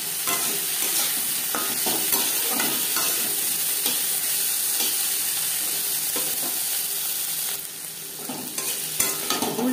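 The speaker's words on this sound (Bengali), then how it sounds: "মাছ হালকা করে ভেজে নিয়েছি" Shrimp frying lightly in a pan with oil, a loud, dense, continuous sizzle close by, with brief stirring knocks and a slight drop near the end.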